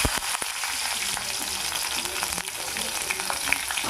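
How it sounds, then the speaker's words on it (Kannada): Chilies frying in hot oil for a mutton dish, a loud dense crackling sizzle held steady throughout with a few sharp pops, close and without talk. "ಇವಾಗ ಎಣ್ಣೆ ಕಾಯ್ದಿದೆ, ಇವಾಗ ಫ್ರೈ ಮಾಡ್ಕೊಳ್ಳೋಣ."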